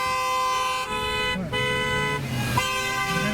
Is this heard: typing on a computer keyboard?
no